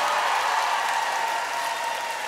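A concert crowd at the Danforth Music Hall in Toronto claps and cheers for a band member in a steady wash of applause from a large room, loud throughout.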